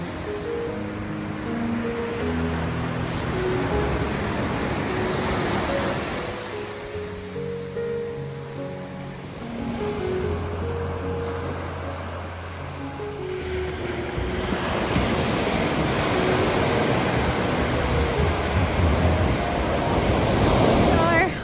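Ocean surf rolls steadily onto Keeha Beach in a continuous broad wash, with wind buffeting the microphone and the waves swelling louder toward the end.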